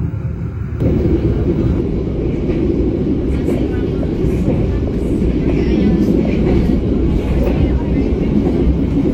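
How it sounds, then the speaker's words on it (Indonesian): Steady low rumble of the Logawa economy-class passenger train rolling along after leaving the station, continuous and fairly loud, with a constant roar and faint rattling throughout. "kereta api Logawa telah meninggalkan stasiun Sumpyo"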